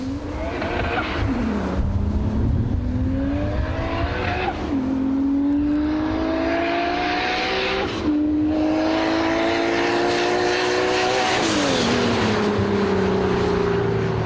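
A thoroughly modified single-turbo Toyota Supra engine revs hard and loud through four gear changes, each shift dropping the pitch before it climbs again, with no talking.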